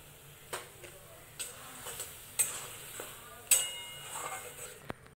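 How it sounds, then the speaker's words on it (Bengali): Flat bean bhorta paste is stirred and dried in a wok, giving a series of scraping, clacking strokes at an irregular rhythm over a faint, low sizzle. No one speaks. "কড়াইতে ভালো করে নেড়ে চেড়ে মিশ্রণটাকে শুকনো করে নেব।"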